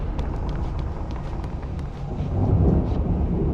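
A thunderstorm in the video game Alan Wake Remastered, a heavy low rumble of thunder with a dense wash of rain and wind noise that swells louder toward the end, with no talk.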